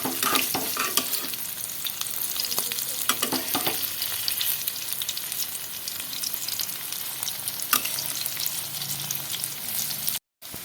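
A stuffing made from bitter gourd fries in a pan with a continuous dense sizzle and crackle, broken by occasional louder spatters and stirring scrapes and a brief gap near the end.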